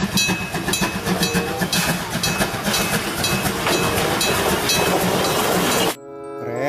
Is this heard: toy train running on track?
yes